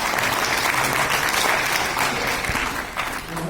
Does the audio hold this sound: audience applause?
yes